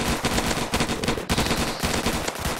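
Rapid automatic gunfire from a machine gun such as an M16 or Thompson in the Roblox game Zombie Attack, sustained loud bursts with brief gaps, alone without talk.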